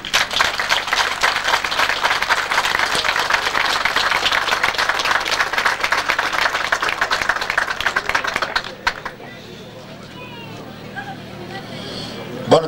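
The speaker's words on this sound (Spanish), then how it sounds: "un fuerte aplauso." An outdoor crowd at a 1997 water day celebration in Llano de la Pez applauds loudly and steadily for several seconds, with crowd murmur in the mix, before the clapping stops abruptly and leaves quiet background noise.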